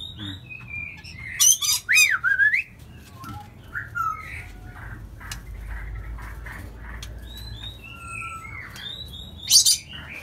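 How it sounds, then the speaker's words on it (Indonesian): A white-rumped shama (murai batu) calls from a breeding cage, with sharp squawks and whistled chirps in bursts near the start and again near the end, and quieter intermittent notes between them. "Dan di sini ada juga murai batu."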